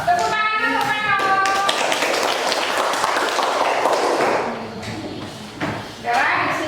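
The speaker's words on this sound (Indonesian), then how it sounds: "Tepuk tangan untuk Ano." Classroom of pupils applauding a classmate, a dense burst of clapping that swells and then fades, with children's voices calling out at the start and end.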